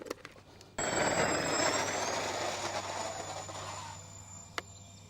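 Avios C-130 radio-controlled model aircraft flying overhead in a steady, loud multi-engine electric whine with a constant high tone, starting abruptly after a quiet moment and slowly fading slightly.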